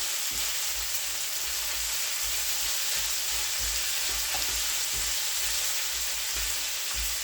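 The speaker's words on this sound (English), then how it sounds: "So we're going to let that saltfish fry up a bit." Saltfish frying in a pan, with a loud, steady, hissing sizzle that runs without a break, plus faint low knocks now and then.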